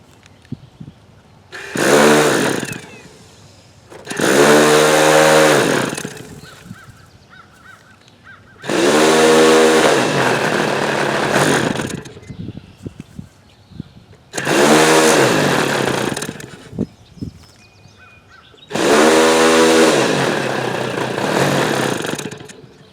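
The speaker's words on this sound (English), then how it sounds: "We can give it a shot here with the electric starter." A Hangar 9 T-34 Mentor model plane engine is cranked with an electric starter in five loud buzzing bursts of a few seconds each, separated by short quiet gaps.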